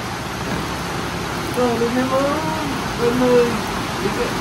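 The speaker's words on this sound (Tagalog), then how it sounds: "So yan po, malakas yung ulan" A steady wash of heavy rain fills the scene, with a voice talking briefly over it partway through.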